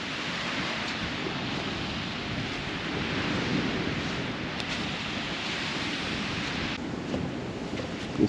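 Waves wash onto a beach in a constant, rushing roar, mixed with wind buffeting the microphone, and no voices are present.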